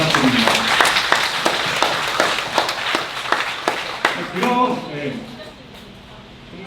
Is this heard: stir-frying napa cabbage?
no